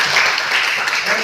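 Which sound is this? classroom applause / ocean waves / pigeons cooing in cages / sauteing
classroom applause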